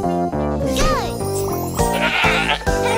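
A goat bleats in a children's show with a busy music bed, a wavering cry rising and falling over steady tuned background tones and lingering for a few seconds.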